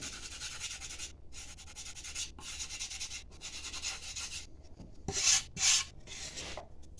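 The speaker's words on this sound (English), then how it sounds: "And then I'm going to rub it all in." A hand rubs finish into wooden joints in steady back-and-forth rasping strokes, with brief pauses between passes and two louder scrubbing bursts near the end, close and alone.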